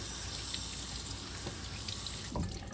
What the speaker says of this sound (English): I'm actually going to rinse the stone.